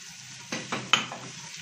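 Garlic drops into a pan of sautéed onion and sizzles steadily at close range, with a few sharp crackling bursts as it is stirred.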